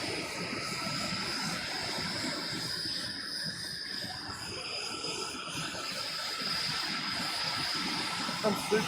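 A jet aircraft at an airshow in Gatineau, Canada produces a broad, steady roar that swells and fades slightly as it passes, loud and continuous for the whole stretch with no talk.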